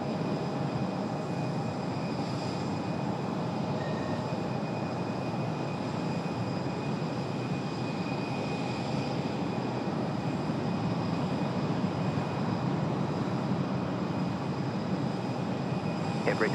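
A FedEx Boeing 767 jet taking off at Raleigh-Durham International Airport, a dense, steady engine roar that holds unbroken throughout, loud and constant with no clear rise or fade.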